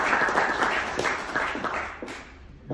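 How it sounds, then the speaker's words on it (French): Members at a welcoming session for new corresponding members applaud a newcomer, a mixed crowd clapping loudly at first, then thinning and fading over a couple of seconds. "Bienvenue chez nous, on va t'applaudir."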